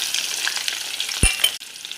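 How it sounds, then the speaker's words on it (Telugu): Onions going into hot oil in a pan after other ingredients have turned golden, a steady close sizzle with stirring scrapes and a brief thump partway through, no talk. "ఇప్పుడు ఆనియన్ వేసుకుందాం."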